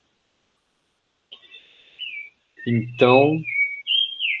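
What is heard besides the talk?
rufous-bellied thrush (sabiá) singing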